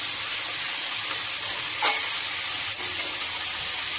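Steady sizzling hiss of onions frying lightly in a hot pan, continuous and fairly loud, with a brief louder crackle partway through; no voices.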